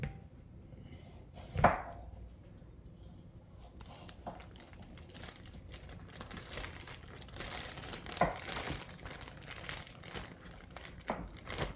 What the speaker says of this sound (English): I'm going to go ahead and place the rest in our plastic bag.